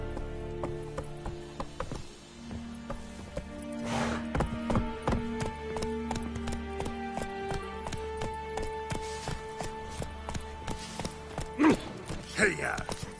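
In The Witcher, a horse's hooves clip-clop in a steady, even rhythm, set against game music and ambience, with a louder clatter near the end.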